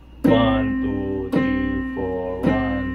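Piano playing three evenly spaced half notes, each struck clearly and left to ring for about a second before the next, close and alone.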